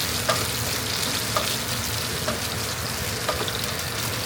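Pork belly frying in a pan, a continuous dense sizzle with occasional sharper pops and crackles, close and steady throughout, no talking.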